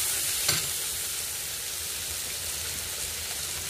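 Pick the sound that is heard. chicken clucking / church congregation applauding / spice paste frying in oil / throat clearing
spice paste frying in oil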